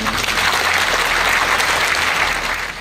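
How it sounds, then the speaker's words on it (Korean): Loud, steady applause from a large crowd at a Seongbuk-gu community event, continuous clapping that fades slightly at the end. "큰 박수 한번 보내주십시오."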